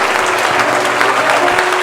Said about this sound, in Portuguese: Você pode glorificar a Deus e aplaudir o mais forte que você puder.